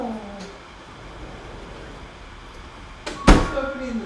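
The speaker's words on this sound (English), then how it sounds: "Just opening the door." A door in a home kitchen opens with a sharp, close burst of noise near the end, following a few seconds of quiet room tone with a brief voice at the start.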